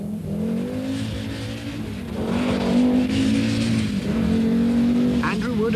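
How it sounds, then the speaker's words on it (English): An Audi 90 Quattro rally car on a 1991 Donegal International street stage at Ramelton, heard from inside the car, its engine roaring loudly and steadily with rising and falling revs under a commentator's voice. "really trying in the Audi 90 Quattro, as we can see from inside the car"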